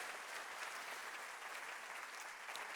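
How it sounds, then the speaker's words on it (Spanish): Congregation applause in a church fills the space with a steady, even wash of clapping from many hands, held at a constant level from start to finish with no voices. "Un aplauso a nuestro excelente Dios."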